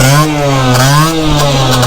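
A motorbike engine, just restarted after its carburetor flooded, revs loudly and steadily up close, its pitch rising and falling in uneven surges as it struggles not to stall.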